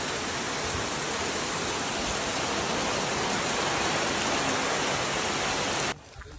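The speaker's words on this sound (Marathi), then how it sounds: "बाकी पाऊस मस्त पडतोय आणि फुल एन्जॉय" Rain pouring steadily in a Konkan village, a dense, loud, even hiss of falling water that drops away abruptly near the end.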